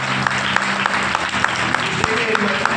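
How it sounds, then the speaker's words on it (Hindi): Church audience clapping for Jesus at a Hindi-language sermon by Pastor R K Masih, with loud, steady, fairly rhythmic applause and a voice speaking over it. "यीशु के लिए एक ताली बजाएं।"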